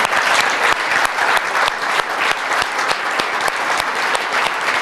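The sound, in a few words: audience applauding presenters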